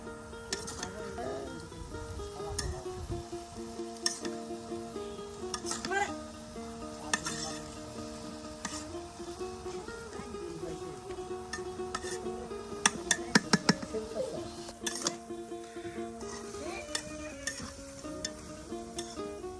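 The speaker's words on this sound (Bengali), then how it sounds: "দেখুন এটা বারবার কিন্তু আপনার লাড়া দেওয়া হচ্ছে যেন পুড়ে না যায়" Pangas fish curry cooks in a pot and is stirred again and again so it won't burn, giving a steady low sizzle with scattered spoon scrapes and clinks against the metal, close and fairly quiet.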